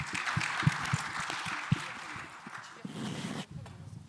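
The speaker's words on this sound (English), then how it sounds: "Let's give them a round of applause." An audience at a medical conference claps for a panel, scattered sharp claps at first thickening into brief applause, with some murmuring and movement, then tapering off quickly.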